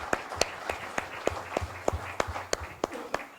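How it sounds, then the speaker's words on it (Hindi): Scattered handclaps from a book-launch audience, sparse and uneven with distinct individual claps rather than a full roar, moderately faint across a few seconds. "सरकार तलवार के लिए एक बार जोरदार ताली बजाइए।"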